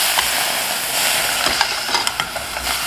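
Onions caramelize in a pot over medium-high heat for French onion soup, giving a dense, steady sizzle and hiss. Scattered scraping clicks from a utensil stirring sit on top, close and fairly loud with no voices.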